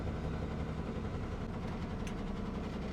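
A 16-wheeler truck loaded with copra idles while reversing, a steady, dense, close engine rumble with a brief higher tone partway through, no talking.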